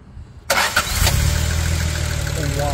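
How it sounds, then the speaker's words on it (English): A Jaguar E-Type engine cranks and catches after a short quiet lead-in, then settles into a steady, smooth idle recorded close by. "So if you just be so kind and start the engine."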